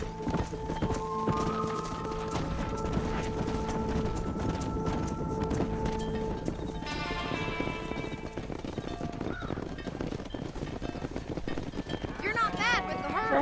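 Horse hooves clip-clop steadily at a walking pace in the Red Dead Redemption video game, mixed with ranch animal calls and music.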